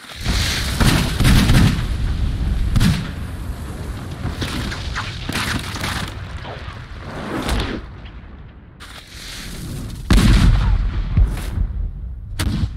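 Multi-barrelled gunpowder gun from the Hundred Years' War era in Age of Empires IV fires repeatedly: loud, close booming shots in irregular clusters, each with a sharp crack and rumbling tail, pausing briefly before another volley.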